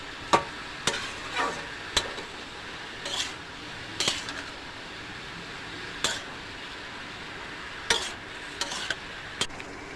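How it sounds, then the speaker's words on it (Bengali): Bottle gourd curry with turmeric and salt stirred in a metal pan, a spoon scraping and clinking against the sides in irregular knocks over a soft steady background hiss, with no talking. "হলুদ দিয়ে আর লবণ দিয়ে লাউ ঘন্টটাকে এবার নাড়াচাড়া করব কিছুটা।"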